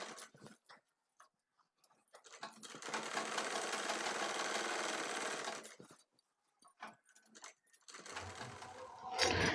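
A sewing machine stitches a folded half-inch hem onto a petticoat belt in a sustained whirring run of about three seconds. A shorter burst follows near the end, with quiet handling sounds and pauses between.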